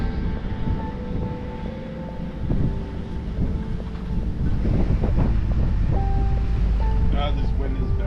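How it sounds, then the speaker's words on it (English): Strong outdoor wind buffeting the microphone, a constant heavy low rumble with gusts swelling louder toward the end, a voice speaking under it. "Ah, this wind is bad."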